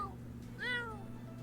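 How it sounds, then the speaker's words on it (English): A single meow from a cat in The Sims 4 Cats & Dogs, a short rising-and-falling cry in the middle of the clip over a steady game music hum, with no talking. "I feel like he would have more of a scratchy meow here."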